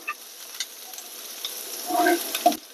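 Onions frying in hot oil in a home kitchen, a soft steady sizzle with a few stirring clinks and scrapes, louder toward the end; no talk.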